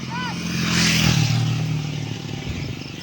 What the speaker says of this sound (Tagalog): Maraming motor ang nadaan.